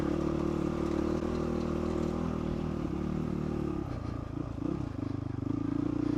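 A motorcycle engine idles roughly at altitude on a mountain range track, a steady close rumble that dips and wavers for a moment before settling back to a constant idle.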